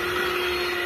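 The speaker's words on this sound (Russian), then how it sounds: "И также миксером взбиваем уже до такого очень устойчивого состояния." Electric hand mixer beating cream cheese with butter into a thick, stable frosting, giving a steady loud whirring motor drone with no break, close up and alone.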